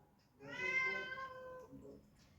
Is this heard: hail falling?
no